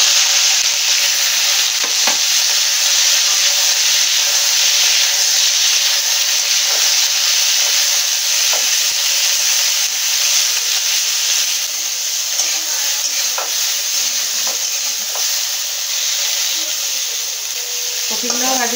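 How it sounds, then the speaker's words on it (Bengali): Cauliflower pieces frying in hot oil in a pan, a loud, steady sizzle that holds for the whole stretch, with light stirring scrapes now and then. "এই তেলেতেই কেটে রাখা কপিগুলো ভেজে নেব।"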